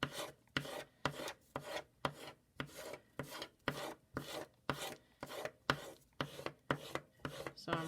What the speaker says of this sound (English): now you're rubbing in both of those sections